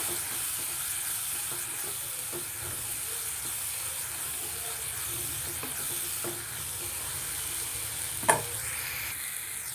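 A soft, steady sizzle of spices frying in a pan for a spinach and chickpea curry, with occasional light scraping of stirring and one brief clink near the end.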